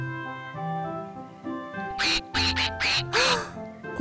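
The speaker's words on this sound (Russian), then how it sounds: "маленький утенок" A little duckling quacks in a cartoon, a burst of several close, bright quacks after a quiet, music-like opening, each call short and rising in quick succession.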